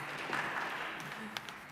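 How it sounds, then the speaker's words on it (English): Applause from the audience at a memorial service celebrating a life, a soft steady patter of clapping heard from a distance, fairly faint, with no one speaking over it. "You can applaud."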